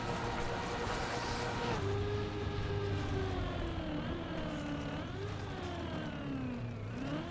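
Engine drone of a car sliding over ice in the racing game Trackmania, a steady whirring hum with pitch swells and dips as it revs, continuous and fairly close with no talk.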